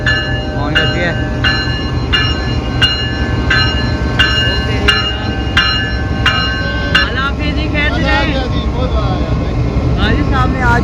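Newly painted diesel locomotive 7640 hauling the Pakistan Business Express runs loudly with a deep steady engine rumble, repeated horn-like tonal blasts and wheel noise, while someone talks over it.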